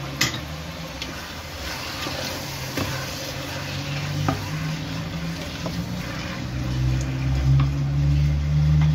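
Tomato purée frying in a pan for chicken biryani, a low steady sizzle with occasional scraping stirs, growing a bit louder and more bubbly toward the end.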